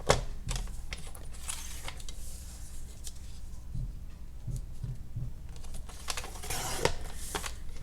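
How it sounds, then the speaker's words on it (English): Scissors cutting a paper journal pocket, giving a series of soft, crisp snips and rustles close by, irregular and fairly quiet throughout. "We just cut it off"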